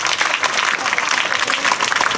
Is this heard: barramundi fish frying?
no